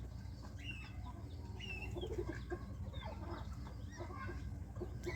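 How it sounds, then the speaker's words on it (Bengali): Frizzle chickens cluck and call softly at a farm, several short calls scattered over a steady low background hum. "এটাকে ফিজেল মুরগি বলা হয়"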